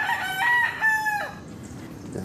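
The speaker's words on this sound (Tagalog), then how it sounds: "Daming manok oh." A rooster crows once, a loud, drawn-out call lasting about a second, followed by fainter clucking from a group of chickens kept by guards, heard outdoors on an early morning walk.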